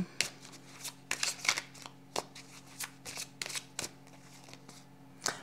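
Tarot cards shuffled and cut by hand at close range, a quiet run of brisk riffling flutters and soft slaps in an uneven rhythm, alone without talk.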